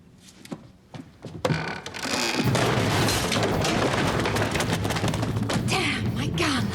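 A single sharp gunshot cracks loudly at close range, followed by a sustained, noisy rumble. People's voices are heard around it.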